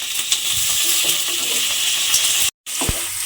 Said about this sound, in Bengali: ঢেঁড়সটাকে আমাকে একটু হালকা করে ভেজে নিতে হবে